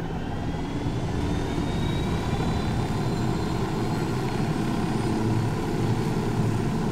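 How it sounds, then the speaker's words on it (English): A helicopter in the Ghost Recon Wildlands video game approaches with a continuous loud rotor and engine roar that stays steady throughout, with no talk over it. "Chopper incoming."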